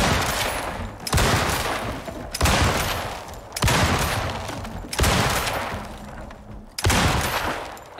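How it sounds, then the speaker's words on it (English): Explosive rifle rounds fire in the game Icarus: six loud, evenly spaced blasts roughly a second apart, each a sharp crack followed by a booming tail that fades before the next shot. "And lastly, we have the explosive rifle rounds."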